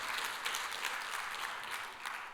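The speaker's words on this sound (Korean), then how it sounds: "하나님께 영광의 박수 올려드립니다." Congregation applauding in a church service, a dense steady wash of many hands clapping throughout, fairly loud and continuous.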